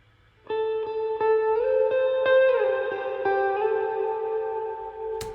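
An electric lead guitar in a lofi beat plays a sustained melodic line drenched in echo and reverb, notes bending and ringing out, ending with a sharp click.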